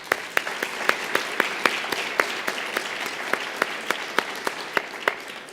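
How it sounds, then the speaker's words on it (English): A single person claps steadily in an even rhythm, close and fairly quiet, at a criminal justice roundtable plenary honoring the presenters. "I'd like to start by just asking for another round of applause for our"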